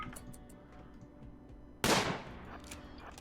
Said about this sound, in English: I think Kazumi, you're going to need to take a shot here